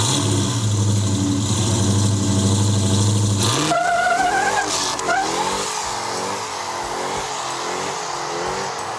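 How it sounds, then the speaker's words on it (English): A Dodge Challenger with a supercharged Hellcrate 707 hp engine and a manual six-speed revs hard in first gear. After a shift, the loud, close engine climbs again in rising, wavering pitch. "First gear, second, there's the supercharger kicking in."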